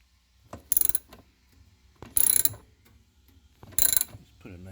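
A washing machine agitator part is screwed on by hand, giving three loud bursts of close ratcheting clicks about a second and a half apart, with quiet handling in between.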